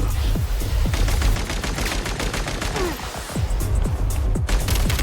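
Rapid gunfire from weapons in the Genshin Impact video game, a dense fusillade of sharp repeated shots with crashing impacts running continuously and loudly throughout.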